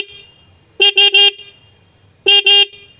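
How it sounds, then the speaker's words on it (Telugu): Horn of a 2024 KTM Duke 200 motorcycle sounds up close and loud, first in three quick honks, then after a pause in two more. "హార్న్ యొక్క లౌడ్నెస్ అనేది ఒకసారి చెక్ చేద్దాం"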